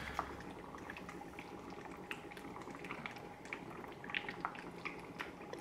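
A homemade HHO mixed-fuel brazing torch hisses steadily as its flame melts through a piece of stainless steel, a constant, fairly faint rushing roar with small crackles throughout.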